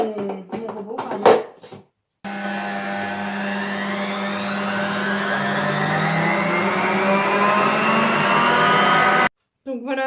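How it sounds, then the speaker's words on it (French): A stand mixer whips cold cream for a chocolate ganache, a steady motor whir that slowly rises in pitch over about seven seconds, with a voice speaking briefly before it starts. "vous la mettez dans la cuve de votre robot où vous utilisez le batteur"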